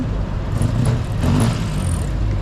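A Ferrari GTO pulls back out near a car-loading area after an auction, its engine a steady loud rumble with a brief rise in pitch partway through, alone with no talk.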